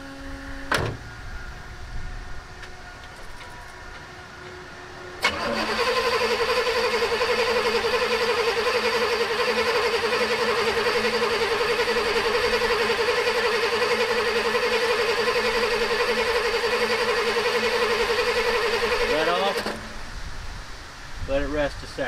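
A car engine is cranked with the fuel pump and computer unhooked: the starter motor whirs in a loud, steady, high-pitched drone for about fourteen seconds, then stops without the engine catching and running.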